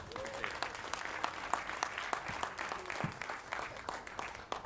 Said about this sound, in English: We've got the governor here and there's applause.